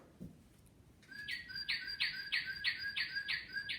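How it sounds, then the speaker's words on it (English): A northern cardinal sings a run of about seven clear, evenly spaced whistled notes after a brief faint sound, moderately close in otherwise quiet surroundings. "There's the cardinal"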